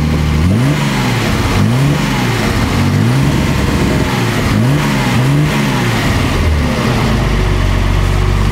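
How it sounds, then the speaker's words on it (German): A restored 1970 Mercedes 280 SL Pagode with automatic transmission revs repeatedly in rhythmic bursts over its idle, loud and close, then settles back to a steady idle near the end. "Gebt mal ein bisschen Gas, dass ihr auch mal den Sound hören könnt bei dem Wagen"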